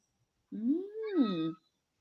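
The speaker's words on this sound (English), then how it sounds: "There's a cat around, isn't there?" A single cat gives one clear, drawn-out meow that rises and then falls, fairly close and loud against an otherwise quiet room.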